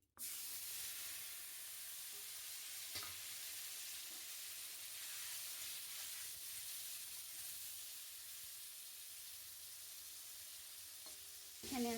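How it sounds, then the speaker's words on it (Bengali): Eggplant frying in mustard oil gives a quiet, steady, continuous sizzle with a few faint clicks of utensils, and no voices. "আবার এই তেলেতেই আমি এই যে বেগুনটা ভেজে নেবো এই তেলটাতেই"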